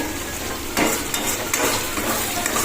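Spice paste frying in oil in a pan for a chital fish curry, a dense close sizzle and crackle with a few stirring scrapes and clinks, no voices.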